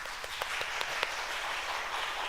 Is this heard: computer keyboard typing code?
no